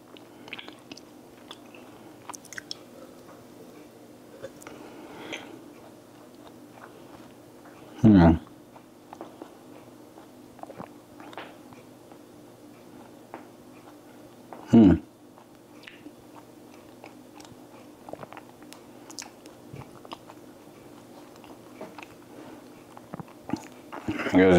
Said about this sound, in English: You guys are just watching me chew this.